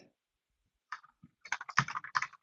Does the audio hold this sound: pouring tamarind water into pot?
no